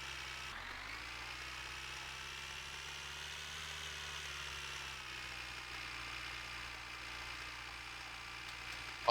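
A tractor engine idles steadily in the video game My Winter Car, a constant low rumbling drone with a slight shift in pitch near the start, close and continuous with no talk.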